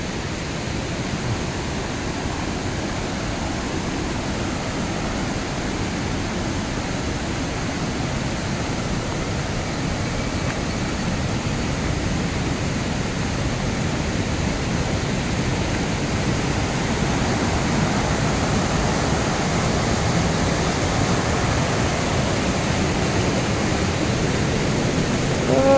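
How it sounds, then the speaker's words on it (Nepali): Rain falling steadily near Ghatte Khola stream at Mini Gosaikunda, a continuous dense hiss with no pauses, loud and close throughout. "पानी मजाले परिरहेछ"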